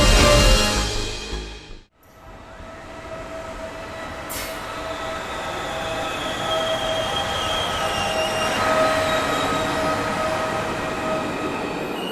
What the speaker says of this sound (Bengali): ঘুম ভাঙতেই রজত টের পেল ট্রেনটা স্টেশনে থেমেছে।